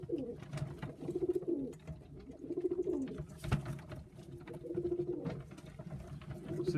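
Macclesfield pigeons coo in repeated bubbling rolls that rise and fall in steady phrases, fairly close and moderately loud, with a brief thump midway.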